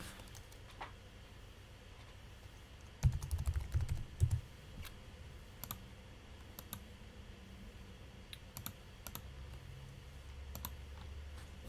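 Mouse clicks during an online Magic card game, Modern format: sparse, sharp, faint clicks scattered across a quiet background, with a brief louder thump-like burst near the start.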